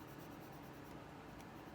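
A pencil scratches lines on paper while sketching piano black keys, a faint, steady rubbing close by.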